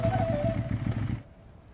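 A motorcycle engine putters with a steady rhythmic throb in a Hindi TV series, then cuts off abruptly into near silence as the bike halts.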